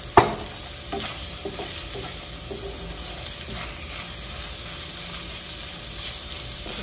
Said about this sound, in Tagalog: Sutay lang po natin ito hanggang sa medyo maluto yung chicken.